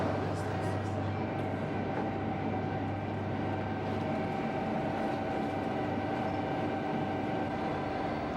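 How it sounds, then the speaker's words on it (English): An Irish intercity radio train rolls along the rails with a steady, continuous rumble and low hum, even and unbroken from start to finish, with no distinct clacks standing out. "This one, for example, is the radio train."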